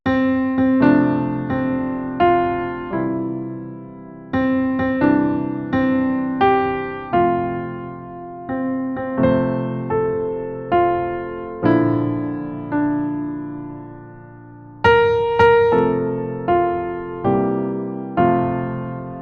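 Solo piano plays Happy Birthday with full melody over chords, a steady phrase-by-phrase rhythm of struck notes and sustained chords, close and clear with no talking.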